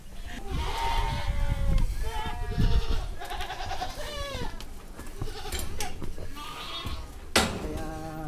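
Goats on an organic farm bleat repeatedly, several overlapping wavering calls near and far over a busy background, with people talking throughout.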